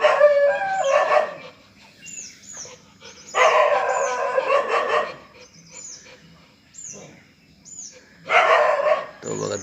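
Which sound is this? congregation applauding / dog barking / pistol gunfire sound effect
dog barking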